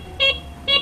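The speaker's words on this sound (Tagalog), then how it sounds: "Then yung busina." Two short, bright toots from the horn of a Honda CB125CL motorcycle after its handle switch assembly is replaced, each lasting about a tenth of a second and close by.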